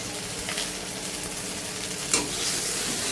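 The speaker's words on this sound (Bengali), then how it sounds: "হালকা করে একটু ভেজে নিচ্ছি" Singhi fish fry in a wok with a loud, steady hissing sizzle that fills the whole stretch, broken by one brief stirring scrape, and no voices.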